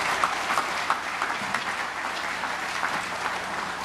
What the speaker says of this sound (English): Ladies and gentlemen, your applause, please